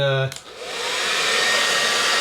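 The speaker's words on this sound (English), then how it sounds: "So, take your trusty hair dryer." A hair dryer switches on after a brief hum, its airflow quickly swelling into a loud, steady whooshing roar close by.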